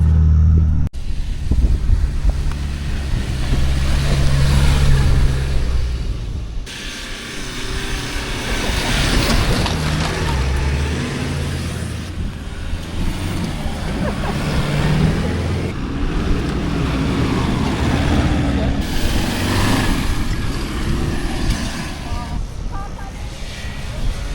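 A big van's engine drones and strains in second gear while driving through soft beach sand at Yuraygir National Park, a loud continuous rumble with surging revs, tyre noise and someone talking over it.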